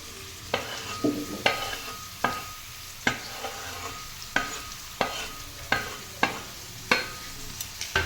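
Ivy gourd pieces fry in a pan, a low sizzle under regular scraping strokes of a spatula roughly every second, close and distinct, with no talking.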